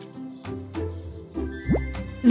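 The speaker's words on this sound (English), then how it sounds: "The owl is blowing bubbles." Cartoon bubbles blown through a straw into soapy water, a short series of soft bubbly plops and bloops, including one rising bubbly glide, with no talking.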